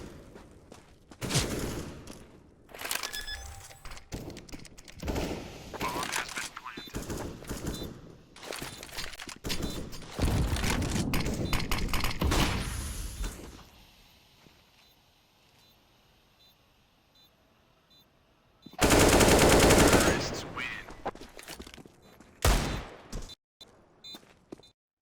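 Bursts of AK rifle fire crackle through a Counter-Strike match, irregular clusters of rapid shots and sharp single cracks over several seconds, then a quiet lull before one loud, dense volley and a few final shots.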